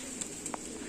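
Pigeons of old Saharanpuri lines coo faintly, with a couple of soft brief calls over a low steady background hum and no talk.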